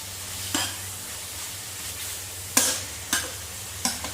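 Beef stir-fried in a pan for Thai pad kra pao, a steady low sizzle broken by several sharp scraping clatters of a spatula against the pan, close and fairly quiet, with no talk.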